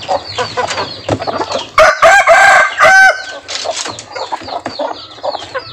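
A five-month-old all-black pakoy pitbull fighting rooster clucks in short bursts, then gives a loud, close crow lasting over a second before returning to scattered clucking, with no speech.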